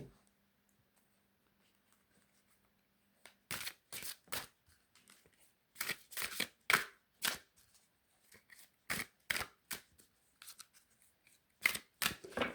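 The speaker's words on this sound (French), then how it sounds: "on va prendre une carte de l'oracle des anges." Cards from an angel oracle deck being shuffled and drawn make a series of crisp, close papery snaps and flicks in irregular bursts after a few quiet seconds, with no talking.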